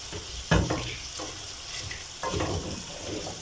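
Beef stew is stirred in a pot, with soft scraping strokes and a couple of sharper knocks of the spoon over a low sizzle.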